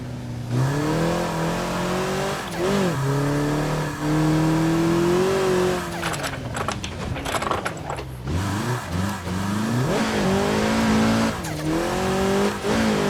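A Toyota GR86 engine revs hard on a gravel rally track, close and loud, the pitch climbing and dropping through repeated bursts of throttle, with gravel crunching and brief rough scrabbling midway.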